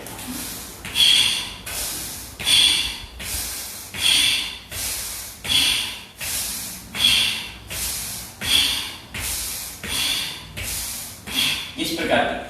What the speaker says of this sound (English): along with this yogic walk, we have to do forceful breathing as well